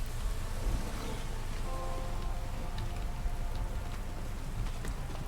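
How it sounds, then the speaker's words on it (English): Steady, dense downpour of blood-rain in the fantasy game Pathfinder: Wrath of the Righteous, a constant hiss of falling drops with low rumbling beneath, even and unbroken throughout with no voices. "raining blood like crazy."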